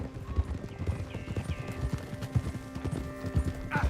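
Horse hooves clip-clop in a steady walking rhythm, close and clear, with a low ambient hum and faint tones in the background, in Red Dead Redemption 2.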